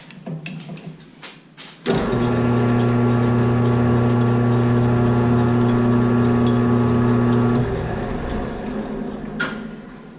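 A shop machine spins up to 300 RPM during an office chair repair, starting with a sharp clunk and settling into a loud, steady tonal hum that fades slightly near the end.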